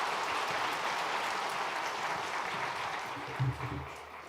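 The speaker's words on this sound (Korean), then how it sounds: "박수로 축복해 주시길 바랍니다." Church congregation giving a big round of applause during a Sunday worship service, a steady, fairly distant wash of clapping that fades a little toward the end.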